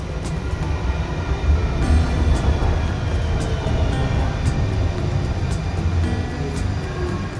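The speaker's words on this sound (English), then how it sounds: "The transit between terminals takes a few minutes on the train" An inter-terminal train at Minneapolis–St. Paul airport rumbles along as a loud, steady low roar inside the car, with faint rattles and high squeaks scattered over it.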